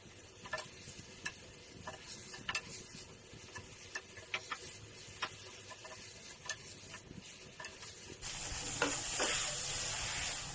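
Chicken sizzles and hisses in a hot pan with chili, scattered scraping taps as it is stirred, the frying growing louder near the end.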